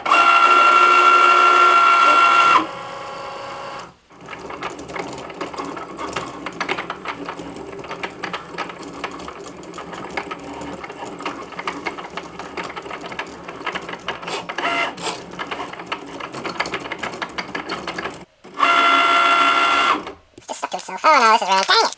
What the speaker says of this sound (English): So I got my Cricut machine loaded up with some vinyl and ready to cut it out.